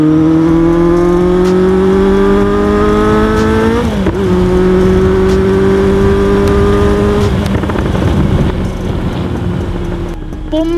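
A car engine revs hard and close, climbing steadily in pitch, dropping briefly and climbing again, then ending with a burst of crackling exhaust pops.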